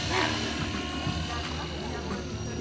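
Gaui R5 RC helicopter flying a high-speed demo pass at a fun-fly event, a steady broadband rotor and motor whine sustained throughout, loud and close, with crowd noise and talk underneath.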